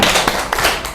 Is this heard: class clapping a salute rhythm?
yes